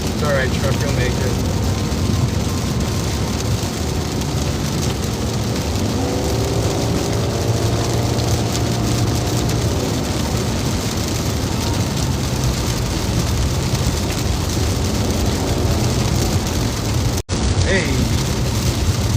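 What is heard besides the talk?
heavy rain drops smacking a car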